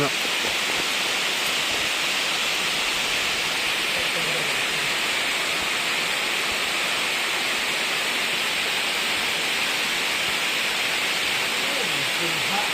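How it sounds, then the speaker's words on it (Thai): Steady rain falls in the forest, heard from shelter inside a cave: a dense, unbroken hiss, loud and even throughout with no clear pauses. "ฝนตกแล้ว"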